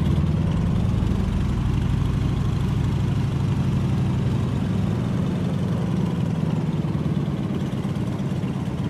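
A Stearman biplane's piston engine idles steadily in the Microsoft Flight game, a loud, even low rumble with a slight pulsing throb that holds unbroken throughout.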